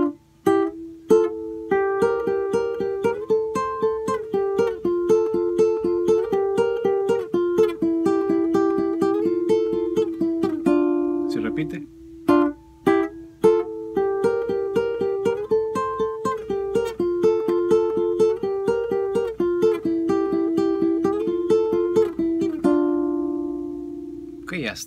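An acoustic guitar plays the introduction phrase of a song, a busy picked melody with quick repeated notes over bass, briefly pausing midway and ending on a ringing chord.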